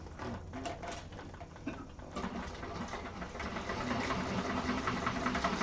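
A sewing machine backstitches on a handbag, its needle rattling fast and close in short bursts that give way to a steady, louder run of stitching.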